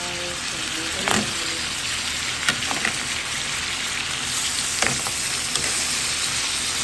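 Shrimp sautéing with garlic and onion in a pan, a steady close sizzle and frying hiss with occasional clinks and stirring scrapes, voice talking faintly over it.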